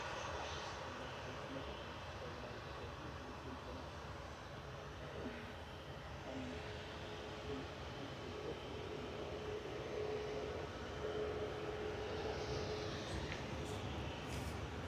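A Qatar Airways airliner taxis out at Manchester Airport, a faint, distant and steady engine rumble and whine that swells slightly near the end.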